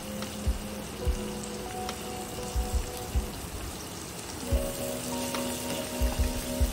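Chopped carrots stir-fry in a pan for vegetable hakka noodles, a steady soft sizzle broken by scattered low knocks of the spatula against the pan.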